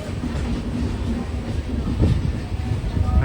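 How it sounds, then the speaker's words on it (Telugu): Train from Mumbai waiting at a signal: a continuous low rumble and rattling drone, close by and steady for a few seconds, with no talk. "ముంబై నుంచి వచ్చే ట్రైన్ అది. సౌండ్ చూడండి ఎట్లా ఉన్నది."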